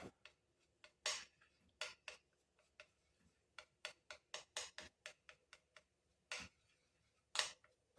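Aloe vera gel and honey being mixed in a small bowl, a spoon tapping and scraping the sides in quiet, irregular clicks with short pauses between strokes, close up and with no talking.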